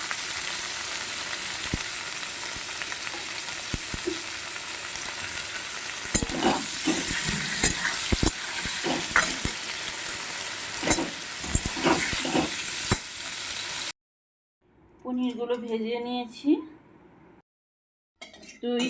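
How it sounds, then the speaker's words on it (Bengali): Bay leaf and whole cumin crackle and sizzle in hot oil left from frying paneer, with stirring scrapes throughout; after the sizzling stops abruptly, someone talks briefly. "তেলটা গরম হয়ে গেছে তেজপাতা ফোড়ন দিয়ে দিলাম গোটা জিরে ফোড়ন দিয়ে দিলাম"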